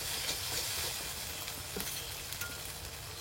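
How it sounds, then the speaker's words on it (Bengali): A paste of ground cumin, coriander, green chilli and dried chilli fries in a pan with a continuous close sizzle and occasional stirring scrapes, with no talk. "এবার মশলাগুলো একটু ভালো করে কষিয়ে নেব।"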